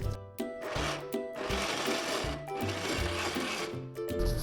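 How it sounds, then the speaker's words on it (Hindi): Countertop blender whirring as it blends pomegranate seeds with about half a cup of water, a steady motor drone with slight shifts in pitch as the load changes, close and continuous throughout. "अब इसको हम ब्लेंडर में डाल के तो ब्लेंड करते हैं।"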